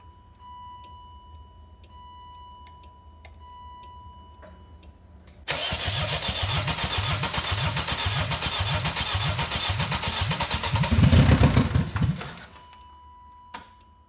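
A BMW engine cranks in a burst of rhythmic starter pulses, catches and roars loudly into a rough, smoky first start with no coolant, then cuts off after several seconds; the close, harsh running fills most of the clip.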